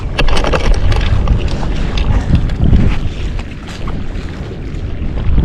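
Strong wind buffets the microphone on a fishing boat with steady roaring rumble, mixed with water and boat noise, loud and continuous.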